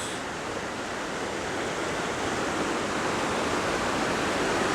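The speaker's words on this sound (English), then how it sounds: "here you get a really nice, very close-up view of the rapids" River rapids on the James River rush in a steady, dense, broadband roar that stays loud and unchanging throughout, with no voices.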